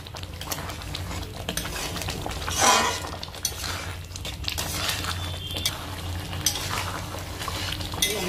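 A spoon stirs garam masala powder into palak chicken in a pan, with scraping and clinking against the metal over a soft sizzle, one louder clatter early on.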